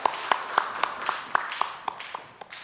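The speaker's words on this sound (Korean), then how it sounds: "하나님께 영광의 박수를 올려드리겠습니다" Church congregation at a Sunday service claps in steady, rhythmic unison, about four beats per second, moderately loud in a reverberant room, fading slightly toward the end.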